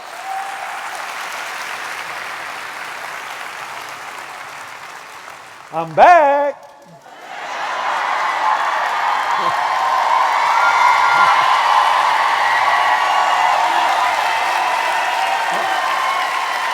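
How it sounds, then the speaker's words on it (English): A school-district convocation audience gives a sustained round of applause, broad and steady for many seconds, briefly interrupted by a voice over the sound system before the clapping swells back. "let's give them another round of applause"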